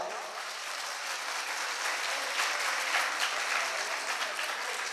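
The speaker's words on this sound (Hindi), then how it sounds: "अब जोर से ताली बजाओ।" A congregation clapping loudly at a Jain monk's sermon gathering after an announcement about the monsoon retreat; a dense, uniform wash of hand claps holding steady, moderately distant, with no talk over it.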